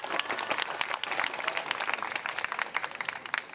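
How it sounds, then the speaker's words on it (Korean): Audience applause for a speaker at a peace rally in Gwangju calling for a Korean Peninsula peace treaty: dense, steady clapping from a large crowd, loud and sustained throughout. "우리 박봉주 본부장님께 다시 한번 뜨거운 박수 부탁드립니다"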